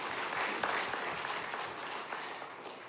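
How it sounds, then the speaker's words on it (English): Parliamentary orientation audience giving a speaker another round of applause, a thick continuous wash of clapping from many people that holds steady and fairly loud throughout. "Let's give her another round of applause."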